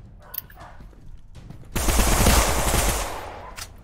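Rapid automatic gunfire from a Roblox 1v1 duel rattles out in a loud burst after a quieter stretch of faint clicks, then tapers off near the end.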